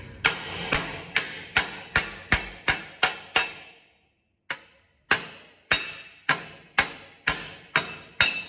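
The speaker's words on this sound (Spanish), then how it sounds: "Este martillo, lo agarro este martillo porque tiene más filo para sacar esta arruguita que tiene ahí." A hammer knocks a small dent out of a car body panel in steady, ringing metallic blows, about fourteen in total, evenly spaced with a brief pause partway through, close and without talk.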